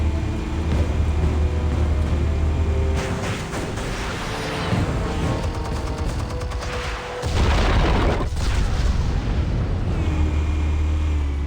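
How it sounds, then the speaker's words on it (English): Explosion in the Batman Telltale video game, a heavy low rumbling boom with layered blasts and debris over a continuous dense roar, loud and sustained, no talk. "Explosives armed. Fire when ready."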